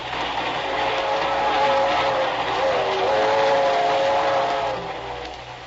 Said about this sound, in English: Rusty Fairfax, on a train which is heading toward the fashionable resort town of Cranston in upper New York State.